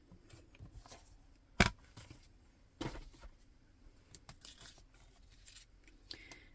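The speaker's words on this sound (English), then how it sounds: "you need some nice sharp scissors to be able to do your cutting" Sharp scissors snipping paper for papercraft card-making, a few quiet crisp cuts standing out over faint rustling and handling of paper at close range.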